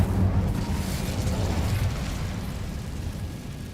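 Incendio fire spell bursts in Hogwarts Legacy as a loud, low rumbling whoosh of flame that swells at once and slowly fades over a few seconds, alone.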